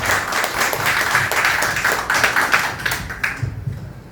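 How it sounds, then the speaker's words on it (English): An audience applauds at an evening fundraising event, a dense steady patter of many hands clapping at close range, trailing off toward the end. "I'd like to ask everyone to give yourselves a big round of applause for supporting tonight's"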